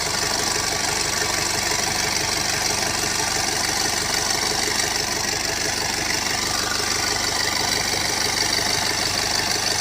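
A car engine fitted with a big turbocharger, heard up close as a loud, continuous rumbling roar with a steady whine running through it, sustained evenly for about ten seconds with no talking.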